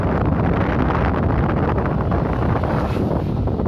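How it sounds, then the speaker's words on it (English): Strong wind roars steadily across the microphone at a hilltop viewpoint on Chamundi Hills, a loud, continuous buffeting rush with no pauses and no voices. "it's too windy"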